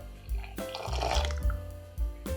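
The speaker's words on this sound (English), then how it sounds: "Soak the chickpeas in hot water, at least 8 hours before cooking them." Hot water poured over chickpeas set to soak, a splashing, gurgling pour with a few bursts and pauses, close and fairly loud, no voices.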